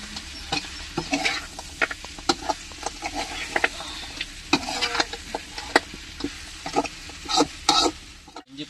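Onion, tomato, spices and chilli sautéing in oil for a chicken feet gravy, with loud repeated scraping and clinking stirring strokes over a continuous sizzle.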